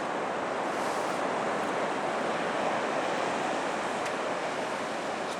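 Ocean waves wash onto an empty beach in a steady, dense roar of surf, with wind buffeting the microphone throughout and no voices.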